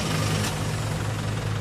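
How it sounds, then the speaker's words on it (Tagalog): Mitsubishi Montero engine running at a steady idle, a continuous low hum and rumble heard close up, alone and unchanging throughout, in a repair setting. "Pa-start ko pa itong makina."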